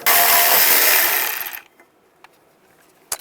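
A ratchet with a 10mm socket turning a nut off a bracket on a 2010-2017 Chevrolet Equinox, a loud, dense burst of rapid clicking for about a second and a half that cuts off, followed by a few faint metallic taps.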